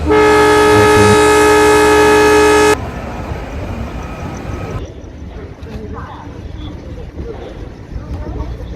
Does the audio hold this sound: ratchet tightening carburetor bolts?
no